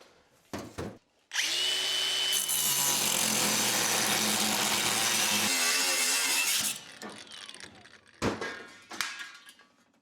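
A power tool cuts a homemade metal frame connector piece for a 1963 Plymouth Valiant A-body: a loud, sustained grinding whine for about five seconds, then a softer tail and a few short bursts, close by.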